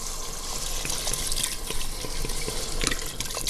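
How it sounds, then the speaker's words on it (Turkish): Water pours steadily into a cooking pot of dried okra soup over sautéed tomato paste, a continuous close hiss and splash with light drips and no talking. "suyumuzu koyuyoruz"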